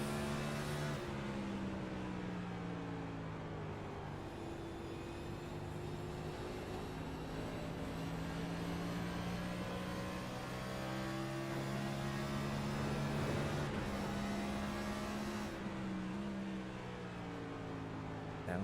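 Race car engine from a Next Gen stock car sim race at Phoenix accelerating down the straightaway, a loud, steady droning roar with slowly climbing tonal pitch and a brief shift dip near the end, no talk.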